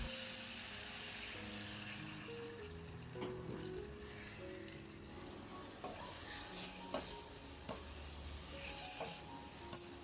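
Stir-fry sauce hitting a hot pan of Hong Kong–style kale with crispy pork belly, giving a quiet, steady sizzle broken by faint clicks and scrapes of stirring.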